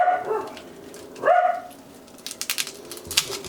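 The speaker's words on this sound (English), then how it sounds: "There's one bad dog." A dog barks in a home kitchen during cooking, with a few sharp barks and a whine-like yelp near the start, followed by scattered clicks and knocks of kitchen work close by.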